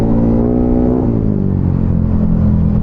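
A Yamaha Aerox 215cc motorcycle, version 2 and in break-in, revs while being ridden. Its engine drones close and loud, and the pitch shifts partway through as it accelerates, with no voices.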